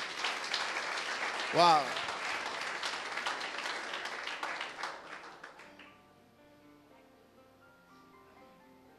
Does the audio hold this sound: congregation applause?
yes